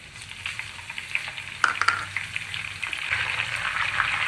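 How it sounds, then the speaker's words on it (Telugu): Green chillies and curry leaves fry in hot oil, a steady, soft sizzle with a few sharper crackles and pops partway through. No one speaks. "పచ్చిమిరపకాయలు, కరివేపాకు వేగిపోయినాయి."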